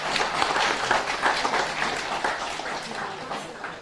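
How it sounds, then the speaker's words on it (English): A round of applause at a memorial reception for Dason Shermont Dottin: moderate clapping from a gathered audience, rising and falling in gentle bursts, with faint voices in the room beneath. "Have a round of applause."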